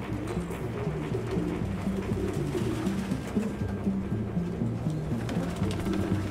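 Pigeons coo in the Detroit: Become Human video game, in a house full of them, with a steady, overlapping chorus of low rhythmic coos running continuously and fairly loud throughout.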